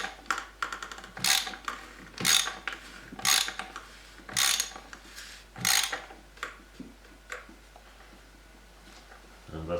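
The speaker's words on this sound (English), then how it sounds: "And then we're going to finish it with our ratchet." A hand ratchet tightens the oil filter cap on a 2.7 TDV6 Land Rover Discovery 3, giving repeated bursts of clicking strokes, about eight in a steady rhythm, close and fairly quiet, with some speech around them.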